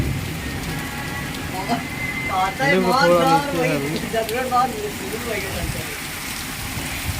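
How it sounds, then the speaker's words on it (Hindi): Heavy rain hisses steadily throughout while someone talks over it in the foreground. "देख रहे हो बहुत तेज बारिश हो रही है।"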